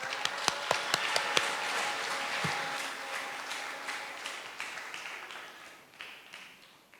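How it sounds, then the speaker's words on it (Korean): An audience at a reunification rally claps, with sharp, scattered claps at first that thicken into steady applause and then slowly thin and fade out. "박수로 모시겠습니다"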